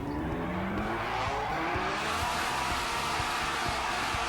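A modded Ferrari Formula One car engine in the video game GTA 5 screams continuously at high pitch, its pitch climbing and wavering, loud and close.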